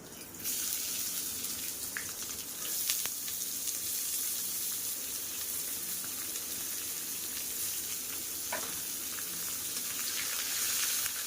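Chopped onions hit hot ghee in a pan while egg biryani is being cooked, giving a continuous close, bright sizzling hiss with a few small crackles and no talking.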